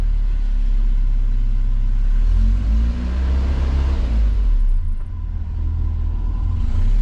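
A cold Land Rover Series 2A engine, fitted with an alternator in place of its dynamo, idles with a deep rumble, then revs up briefly around the middle with a rising drone before settling back to a steady idle.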